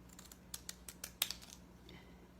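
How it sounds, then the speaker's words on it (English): Scissors snip paper triangles in a quiet room, making a run of about eight short, close crisp cuts in an uneven rhythm, with no talking. "So I'm going to cut triangles this way."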